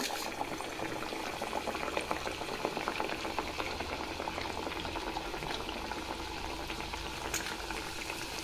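Batter dropped into hot oil, a dense continuous bubbling fry that stays even and moderately loud throughout.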